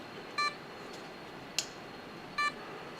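A short electronic beep from an RC aircraft sounds twice about two seconds apart, crisp and distinct over a faint background hiss, with a brief click between them.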